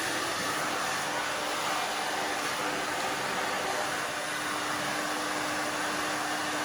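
A hair dryer blowing on short hair, a steady loud whooshing roar with a constant hum that runs unbroken throughout, close to the listener.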